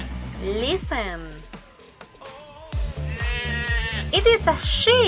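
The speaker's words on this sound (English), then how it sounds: "It is a sheep." A sheep bleating, a few wavering drawn-out bleats heard loud and close, alongside a rhythmic background music track.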